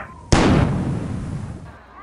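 A single loud cannon blast booms close by after a brief voice, then a long rumbling decay that fades over about two seconds.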